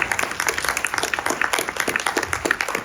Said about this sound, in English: Let's give him a great round of applause.